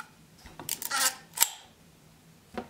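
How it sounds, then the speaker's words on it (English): A Werra III camera's leaf shutter is cocked by twisting the ring and then released, giving a few soft, quiet mechanical clicks and a faint whir followed by a single discreet snap, close up with no talking. "as it is a leaf shutter, shutter sound is really discreet"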